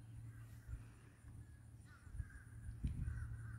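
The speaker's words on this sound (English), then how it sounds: "There go the crows again." Crows caw outside, several harsh calls spaced through the moment at moderate distance, faint over a low background hum.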